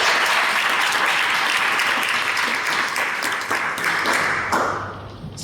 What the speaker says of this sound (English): with a big round of applause, let's welcome Alexandru Cezar